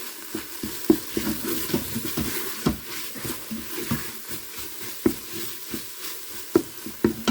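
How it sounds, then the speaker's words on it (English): A spoon stirs a paprika and cayenne spice mix around a pan, scraping in an irregular rhythm of clinks and scuffs under a steady low sizzle, close and moderately loud with no talking. "Now if you want to add extra heat, chuck in some more of that cayenne. Again, give that a mix."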